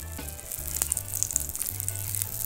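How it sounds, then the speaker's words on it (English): Close crackling and fizzing pops of Pop Rocks candy sizzling on food, with sharp bright snaps scattered over a low steady hiss. "Oh, it's sizzling."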